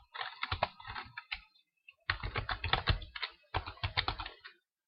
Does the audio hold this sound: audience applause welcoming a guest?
no